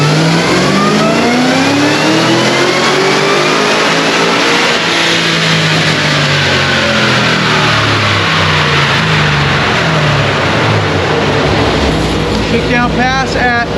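A Cadillac CTS-V wagon making roughly 930 rear-wheel horsepower revs hard through a dyno pull, its loud engine note climbing steadily in pitch. The sustained roar runs the whole time without a break and ends in a rising whine near the end.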